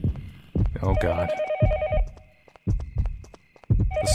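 Electronic phone ringing in the horror game Yomawari: Night Alone, sounding as steady repeated trill bursts between dull thudding footsteps or heartbeat-like pulses, with brief pauses between rings.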